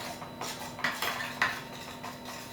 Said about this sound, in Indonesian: lalu kita aduk rata ya